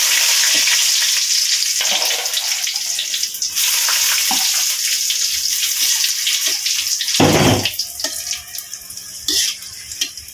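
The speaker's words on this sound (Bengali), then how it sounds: "তেজপাতা দিয়ে দিচ্ছি, এখন শুকনো মরিচটা দিয়ে দিচ্ছি।" Dried red chillies and bay leaves sizzle loudly in hot oil, a steady dense frying hiss with occasional stirring scrapes and a brief louder burst partway through.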